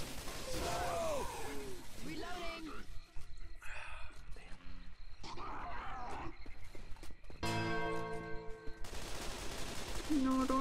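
Gunfire aimed at a hunter in Left 4 Dead rattles in rapid bursts mixed with snarls, screeches and game noise, with people talking over much of it.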